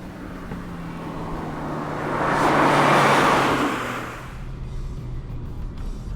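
A 2005 Mini Cooper S accelerates, its engine rising in pitch and loudness to a peak midway, then easing back to a steady road drone with no talk.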